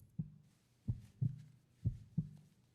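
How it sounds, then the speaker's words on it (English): A heartbeat pounds in five heavy, low thumps, close and muffled, arriving in uneven paired beats with nothing else in the background. "All he could hear was his own pounding heartbeat."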